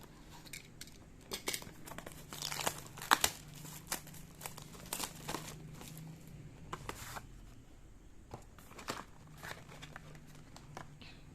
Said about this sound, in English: let's open our first PR kit